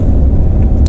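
Steady, loud low engine rumble from inside the cab of a lorry running bobtail with no trailer attached, a continuous close drone with no talking.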